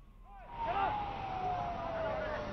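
A fire brigade vehicle wails its siren at a building fire at an electricity department office in Raipur, sounding as one long steady siren tone at moderate distance over traffic and crowd noise.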